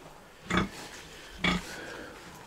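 Pietrain and Duroc piglets in a pen give two short grunts about a second apart, close and moderately loud over a faint background.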